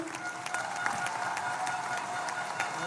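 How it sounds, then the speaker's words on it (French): An audience at a CGT union congress applauds orchestra musicians, with many hands clapping in a steady, dense patter of moderate loudness and a faint crowd murmur beneath. "On peut les applaudir, merci, merci."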